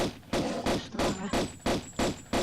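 Repeated gunfire from a weapon in the Tomb Raider Level Editor game, seven evenly spaced loud broadband shots about a third of a second apart, with no talk over them.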